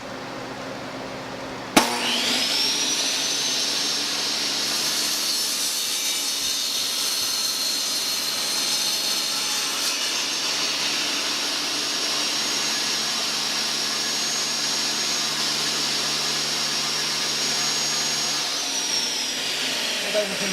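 A power sander runs on the edges of wooden coasters, a loud, steady whirring roar that starts abruptly and holds for about seventeen seconds before cutting off.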